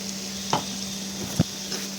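A spoon stirs cashew paste into frying spice masala for Bengali bhetki fish kaliya, with a few soft scraping strokes over a steady oil sizzle and hum.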